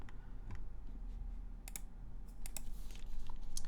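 Rapid clicking keystrokes on a custom mechanical keyboard with an aluminium plate, typed alone at close range in uneven bursts with sharp clacks over a low background hum.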